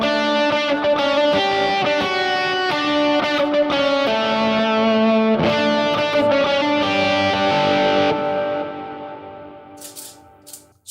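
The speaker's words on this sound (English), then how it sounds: "So if I were to just pick the note, it would sound like this." Electric guitar picking single notes in a worship-style hook line, each note clear and sustained through an effects chain, played steadily and loudly before ringing out and fading near the end.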